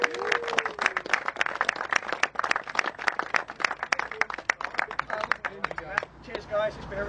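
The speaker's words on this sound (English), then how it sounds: "they deserve a huge round of applause for their efforts and achievements today" A small group claps for the winning team at a paintball league round, sharp, distinct individual claps close by at a quick uneven rhythm, with voices and cheering over them, tapering off at the end.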